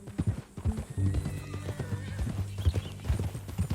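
A horse in the Red Dead Redemption 2 video game clip-clops close by with uneven hoof steps and lets out a whinny, while the hoofbeats continue under it.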